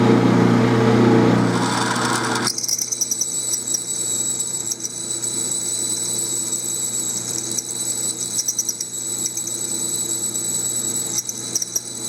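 Brand-new 45/64 drill bit cutting into 303 stainless steel on a machine, a steady high whine of spindle and cutting that runs continuously for about ten seconds after a louder start, close and alone.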